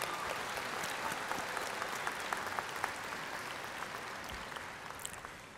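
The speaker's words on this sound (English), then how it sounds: "Let's give them a round of applause for their efforts there." Audience applause for a graduating senior class at the Pisgah High School 2013 graduation, a steady wash of many hands clapping throughout, fairly distant and even, with a few sharper individual claps standing out.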